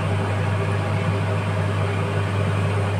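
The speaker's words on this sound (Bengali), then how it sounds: "তাহলে চিমনিটা জ্বালিয়ে নিলাম।" A kitchen chimney exhaust hood runs while brinjal is fried for Bengali doi begun, giving a steady, close fan drone with a low hum and even airy hiss throughout.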